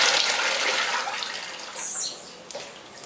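Cold water running and splashing into a container to soak bacaba fruit, a loud rushing pour that fades and sputters toward the end, close up with no speech.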